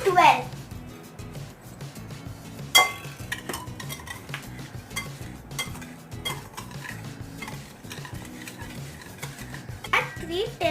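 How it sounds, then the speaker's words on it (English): Pancake batter being stirred with sugar and milk in a bowl, a steady scraping and clinking of a utensil against the dish with sharper knocks, under ongoing talk. "Mix it well."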